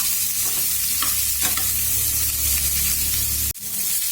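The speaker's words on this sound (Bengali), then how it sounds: "পেঁয়াজটা দিয়ে আমি সামান্য নাড়ব।" Onions stirred into chicken frying in a pan, a loud steady sizzle with a few scraping stirs, ending in a sudden brief cutoff.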